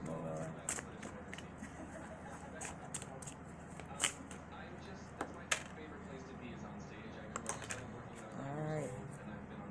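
Tarot cards are shuffled by hand, a run of soft sharp riffles and snapping taps scattered over several seconds, close and fairly quiet, with a low voice murmuring in places.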